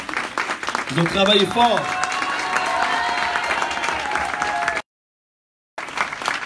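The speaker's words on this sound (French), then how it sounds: "Bonne main d'applaudissements." Applause and crowd noise at a convention, a continuous wash of clapping and murmur with a voice speaking over it, cut off abruptly by a brief dropout before resuming.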